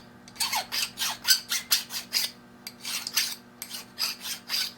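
A metal file rasps back and forth across the underside of a metal part, removing a burr in steady, close strokes, with a short pause midway.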